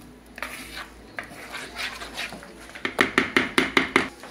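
Oat flour batter for an apple cake, made without wheat flour, milk or sugar, stirred in a bowl: soft scraping and rubbing give way to a quick, even run of about eight close utensil strokes against the bowl.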